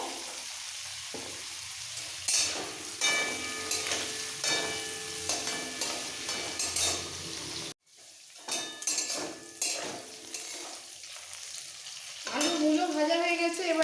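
Potatoes and radish fry gently in a pan with a little salt, a steady quiet sizzle broken by clinking stirs and scrapes of a utensil against the pan, heard up close.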